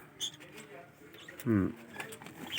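Pet birds in an aviary, a pair of cockatiels, a green cheek conure and a pair of fantail pigeons, give soft scattered calls and one short louder cooing burst close by, with light rustling between.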